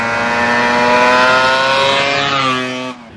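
A restored 1980 Yamaha RD400 two-stroke motorcycle engine revs loudly and close by, holding a buzzy high drone before the pitch sags and the sound cuts off abruptly near the end.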